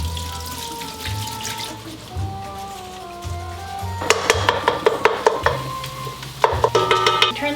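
Taco-seasoned meat cooks in a pan while a utensil stirs and breaks it down. A soft sizzle runs under bursts of quick, rhythmic scraping and clacking against the pan, over a steady low background hum.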